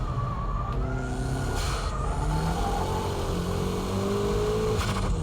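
A car drifting on a wet track with the handbrake pulled, its engine droning steadily throughout with tonal rising whine, loud and continuous with no talk.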